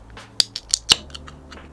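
Opening a can of Battery energy drink: a few sharp metallic clicks and a quick hiss crack out close to the microphone in under a second, then fade into quiet.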